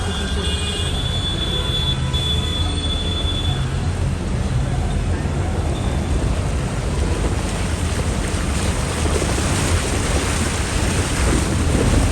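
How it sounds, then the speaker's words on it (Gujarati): Heavy, steady rain with thunder roars without a break in Unjha, Gujarat, a dense wash of noise with low rumbling underneath, streets flooding. "પાણી ભરાઈ ગયો. વરસાદ બહુ આવ્યો છે."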